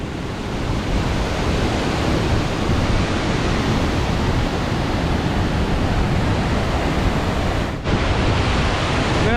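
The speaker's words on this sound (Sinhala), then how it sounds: "මේ වැටෙන්නේ බොමුරට දාමේ 10 වෙනි ඇල්ල" The tenth waterfall of the Bomuru chain in Sri Lanka pours down in a loud, unbroken roar of falling water that holds steady throughout, with no voices.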